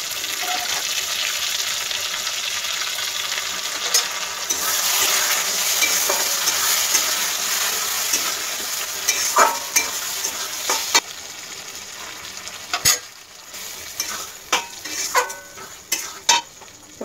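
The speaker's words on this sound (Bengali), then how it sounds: "তবে আঁচটাকে বাড়িয়ে দিলাম, নাড়তে হবে" Boiled dal for egg tarka being stirred in a pan over raised heat, with a continuous sizzle at first and then a string of sharp utensil scrapes and knocks against the pan in the second half, all close and without speech.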